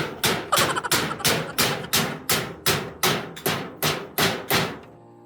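A hammer drives a nail with about a dozen sharp, evenly spaced blows, each a close, loud knock with a short ringing decay, and nobody speaks.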